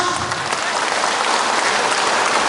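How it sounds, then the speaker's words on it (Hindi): A crowd claps together on command at a party gathering, a dense continuous patter of applause held steady and loud throughout. "त्रिपुरा 1 उंगली से ताली मारो, 2 उंगली से"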